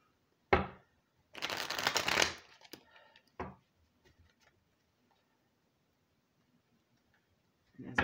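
Tarot cards being shuffled by hand in a quiet room: a short riffle, then a longer dense rustling burst, followed by a few soft taps and card flicks.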